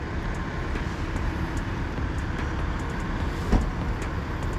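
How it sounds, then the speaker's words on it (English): Police cars arriving near a house fire in Hilltown Township, Pennsylvania, with steady road rumble from vehicles rolling past and a brief thump near the end, heard from a short distance. "Just got some cops rolling up over here."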